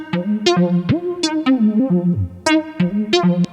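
A distorted, effected synth or vocal line plays through reverb shaped by EQ in Ableton Live, loud choppy tonal notes sliding in pitch with sharp bright attacks and no talking.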